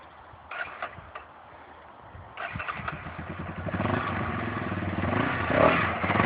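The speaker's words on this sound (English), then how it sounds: "Just start it up, and then just dump the clutch and lean back." A motorcycle engine starts and rises from low clatter into a building, steady roar that grows louder over the final seconds, with no one talking.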